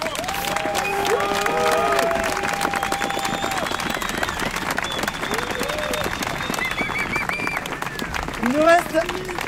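A crowd at the Ultra-Trail Montmartre race in Paris applauds and cheers. Scattered whistles and voices rise over the continuous clapping, with talk mixed in and a louder burst near the end.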